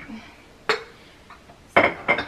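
A glass jar bought from Amazon is handled near a coffee bar, giving two sharp clinks a second apart, each followed by a softer knock. Close and fairly loud in a quiet room.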